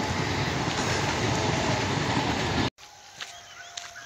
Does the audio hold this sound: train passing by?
yes